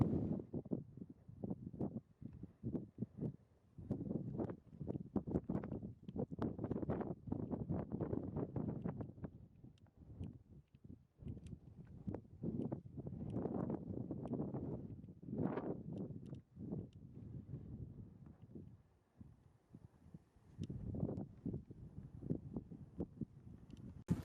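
Gusty wind buffets the microphone on an exposed mountain ridge near Skyscraper Peak in Colorado's Indian Peaks Wilderness, roaring in uneven bursts and lulls throughout with no voices.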